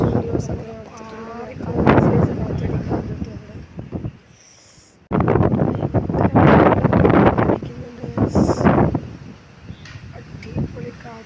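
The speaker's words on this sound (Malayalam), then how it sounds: "രാവിലെ തന്നെ ഭയങ്കര കാറ്റടിക്കുന്നുണ്ട്." Strong morning wind in the hills of Ooty roars and buffets the microphone in loud gusts that drop away briefly midway before surging again, with a faint voice here and there.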